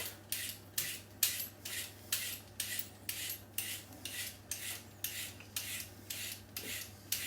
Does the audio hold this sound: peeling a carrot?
yes